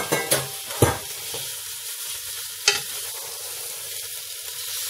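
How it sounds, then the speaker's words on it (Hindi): Minced meat (keema) frying in a pan gives a continuous sizzle, broken by a few sharp scraping strokes of the stirring spoon, close and alone without voices. "और इसको अच्छी तरह भून लेंगे."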